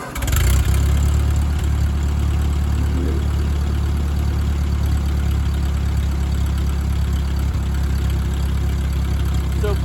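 Ford 8N tractor engine running steadily with the power takeoff spinning, a loud continuous low rumble heard up close with no break.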